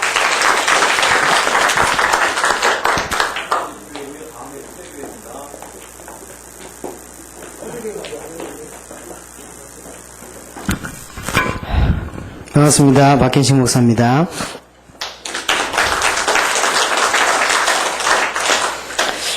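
An audience bursts into applause at a church camp forum in Ansan, loud sustained clapping opening the moment, then someone speaks at a microphone before another round of clapping swells up near the end.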